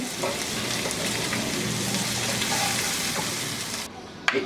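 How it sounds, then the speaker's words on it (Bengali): Drumsticks frying in hot oil in a pan, a dense, even crackling sizzle close by that holds steady before a sudden thin break and a sharp knock at the end. "এখনই একই তেলে সাজনাগুলাকে দিয়ে আমি ভেজে নিব"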